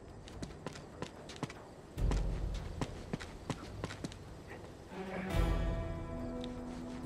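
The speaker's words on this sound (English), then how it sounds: "He's a horse." Hooves clip-clop in the Uncharted: Among Thieves game, a run of sharp, evenly spaced taps from a nearby horse over low rumbling ambience, with a couple of heavier thuds partway through.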